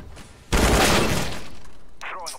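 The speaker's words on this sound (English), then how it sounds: "Throwing a flashbang." A flashbang grenade in CS:GO goes off with a sudden, loud, sharp burst that rings out and slowly fades. A brief bit of voice follows near the end.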